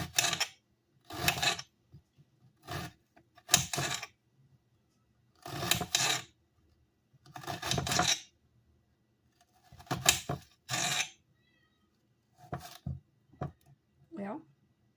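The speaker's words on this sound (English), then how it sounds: "I'm going to cut this part in half and then slice" A knife cuts a sausage into thin slices on a cutting board, giving a series of short rasping strokes in separate bursts with quiet gaps between, close and fairly soft.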